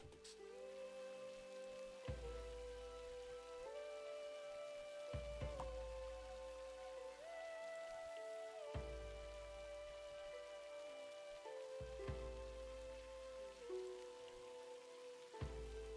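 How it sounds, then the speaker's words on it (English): Rain patters in the video game Noble Fates, a steady wash of drops heard beneath sustained, shifting music tones, with no speech. "Oh, it's raining."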